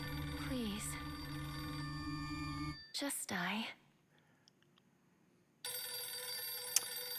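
A telephone rings loudly in a game or film scene, a steady electronic ring that stops abruptly, followed by voices speaking, a quiet pause, then the ringing returning.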